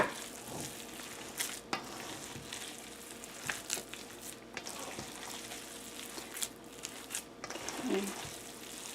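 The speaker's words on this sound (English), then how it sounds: "Mix, and then I turn the bowl and just mix" Meatloaf mixture worked by hand in a bowl: soft, irregular squishing and patting at close range, with light clatter and a person talking intermittently.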